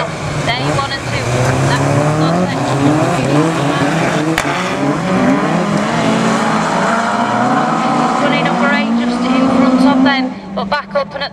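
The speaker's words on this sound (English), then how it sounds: "Bungees up, we are away and racing." Stock car racing engines roar together at a race start, a dense, loud, continuous pack of revving motors rising in pitch as the field accelerates away, with a commentator talking over it.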